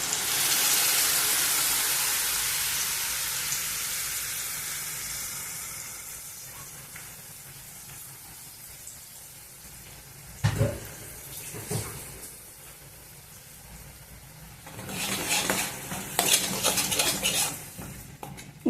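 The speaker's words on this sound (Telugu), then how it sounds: "మంటను కొంచెం హైలో పెట్టి టమోటా ప్యూరీని పచ్చివాసన పోయేంత వరకు ఉడికిద్దాము" Tomato puree cooks on high heat in a pan for paneer kadai curry, giving a steady hiss of sizzling that slowly quiets, broken by a few clanks of a spoon against the pan.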